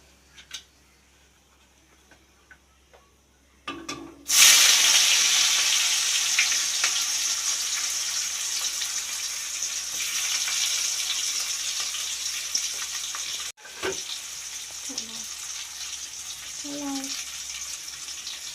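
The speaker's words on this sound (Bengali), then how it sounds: "এরপর আমি পেঁয়াজটা ভেজে নেব।" Sliced onion dropped into hot mustard oil with bay leaf and whole garam masala, bursting into a loud sudden sizzle that settles into steady frying, with brief clinks and a voice talking near the end.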